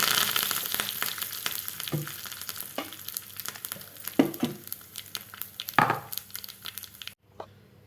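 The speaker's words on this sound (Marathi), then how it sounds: "हे बघा आपली फोडणी झालेली आहे।" Phodni tempering of mustard seeds, cumin and curry leaves in hot oil, a bright crackling sizzle with sharp pops and spatters that fades as it settles, ending in sudden quiet.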